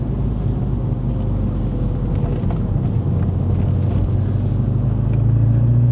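Engine of a MK5 Volkswagen Polo GTI with DSG gearbox pulling hard through quick successive gear shifts on a Malaysian test drive, a steady loud drone with wind rush and rising revs near the end.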